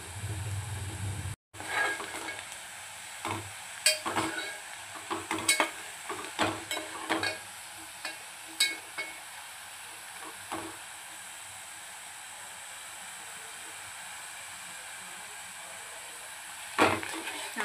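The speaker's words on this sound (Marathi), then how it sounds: "कांदा आपल्याला छान गोल्डन कलरचा तळून घ्यायचा आहे." Onions frying in a pan over a gas flame while biryani is cooked, a steady faint sizzle with intermittent louder stirring clatters throughout, no talking.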